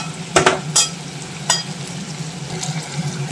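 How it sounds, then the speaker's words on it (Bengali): Water splashes into a hot pan of oil for a mutton-fat potato curry, setting off a steady sizzle with a few clanks of a utensil. "এবার আমি এর মধ্যে জল দিয়ে দেবো।"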